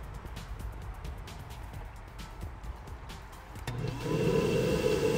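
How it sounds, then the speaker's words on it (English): A Pentair pool pump switches on partway through, its steady motor hum and rushing water rising to a louder, constant drone over earlier low background noise. "I'm gonna go ahead and turn the pool pump on."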